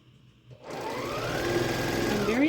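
A sewing machine stitches quilt blocks together, starting after a brief quiet moment and then running steadily and close up with a rising, whirring hum to the end.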